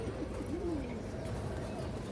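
A female pigeon coos softly in a rising and falling note, faint against a low steady background hum.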